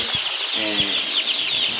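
Chicks in a brooder peep in high, rapid, overlapping calls that go on continuously at close range, with a couple of low thumps underneath.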